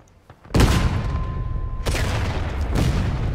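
Heavy artillery cannon blasts at a Civil War battle reenactment on the Hagerstown Turnpike, a few loud, close booms, each followed by a long rumbling outdoor tail, with no talk over them.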